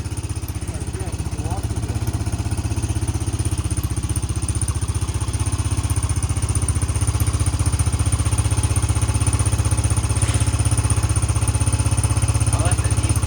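A small gasoline engine runs roughly, loud and close, with a steady pulsing chug that never lets up. It is suspected of needing a carburetor clean, and faint voices sit beneath the engine noise.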